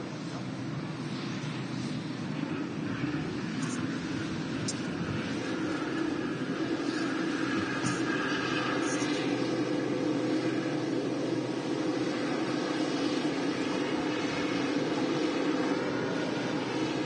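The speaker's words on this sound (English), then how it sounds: "Lovely sound from the Dreamliner next to us as well." A Boeing 787 Dreamliner's engines roar steadily at Manchester Airport, a constant broad whine and rumble heard from nearby, unbroken throughout.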